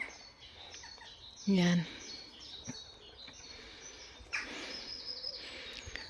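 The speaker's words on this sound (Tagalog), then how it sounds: "Nakakatuwa yung mga huni ng mga ibon." Birds chirp and call among large trees on the grounds of a big castle. Scattered high tweets are mixed with a few louder nearby calls, while people talk softly throughout.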